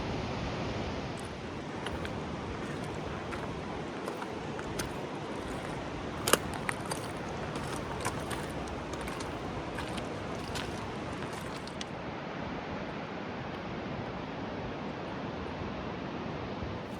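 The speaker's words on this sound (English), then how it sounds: "You can see the water coming out of the bottom of the river here." Meltwater pours out from under a glacier as a river, making a steady, broadband rush that holds at one level throughout, with no voices.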